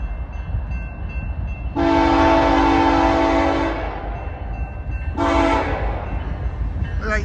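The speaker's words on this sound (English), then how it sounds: "We got an auto rack train here this time" A BNSF eastbound auto rack freight train with SD70AC locomotives passing at Chillicothe, Illinois, sounding two loud, close horn blasts, a long one and then a shorter one, over steady rumble from the rolling train.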